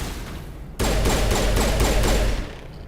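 Pistol gunfire in Mass Effect 1: after a brief lull, a rapid, loud string of about seven evenly spaced shots rattles off in quick succession, then stops.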